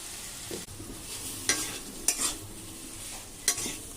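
Spices for a Bengali raw fish curry frying in a pan: a steady soft sizzle with a few clinks of stirring, fairly quiet and with no talking.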